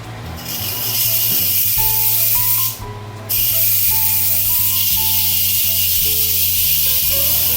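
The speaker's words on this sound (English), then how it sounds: "So basically I'm going to just turn the valve and make the steam come out." Steam blasts loudly through the valve of an Instant Pot during a quick pressure release, a steady, close, broadband hiss that cuts out briefly for a moment and then resumes just as strong, with faint tones underneath.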